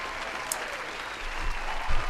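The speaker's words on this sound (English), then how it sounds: "Here's another round of applause for you" A crowd applauds steadily, a dense patter of clapping that swells slightly toward the end.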